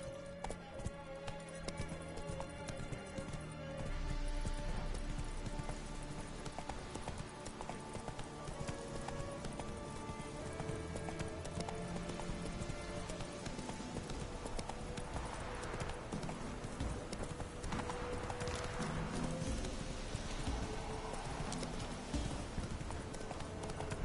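Roach, a horse in the video game The Witcher 3: Wild Hunt, gallops in a fast, continuous run of hoofbeats over game music and ambience, steady and clearly present throughout.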